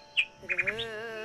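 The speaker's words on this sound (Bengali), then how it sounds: "ঝিঝি পোকা পাখির ডাক শোনা যাচ্ছে সব জায়গাতে," Birds chirping in dense forest near Sittong, with a few short bright chirps, then a quick triple trill and a steady high whistling tone, faint and fairly close, with no speech.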